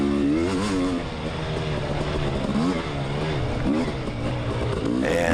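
Motorcycles woods racing at a Mid East Racing event, engines revving loud and close with rising and falling pitch as they battle through the trail, continuous throughout.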